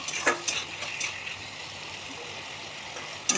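Tomatoes go into a spice masala frying in a pan for an eggplant, potato and small-fish curry, opening with a few splashy sizzles and stirring clinks, then settling into a steady quiet hiss.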